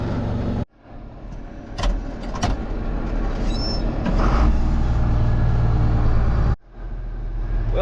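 A forklift runs steadily close by while a sprayer is lined up, its engine a loud continuous rumble with occasional clanks and a brief hiss, broken by two short cuts.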